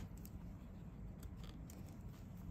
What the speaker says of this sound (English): A little extra stuff here that I'll chop off with a pair of scissors.